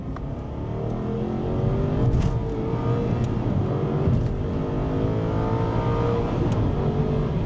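Aston Martin Vantage S V8 engine revving hard on a test drive, a loud continuous roar with rising and falling pitch sweeps, heard up close and alone.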